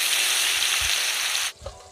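Chopped onions with bay leaf and dried chilli sizzle loudly in hot oil, a steady close frying hiss that cuts off abruptly near the end, leaving a faint quieter crackle.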